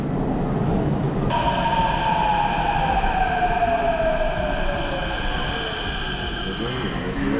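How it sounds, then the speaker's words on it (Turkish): A metro train in Istanbul rolls in close by, its brakes squealing in a long, falling whine over the steady rumble and clatter of wheels. "Metroda geldi."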